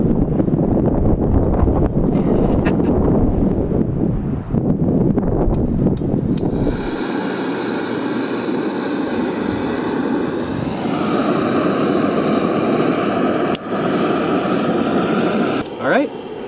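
Soto Windmaster backpacking stove burning with a steady, close roaring hiss that continues without a break, joined by a brighter rushing tone partway through.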